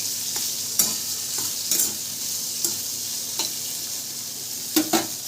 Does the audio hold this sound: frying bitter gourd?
yes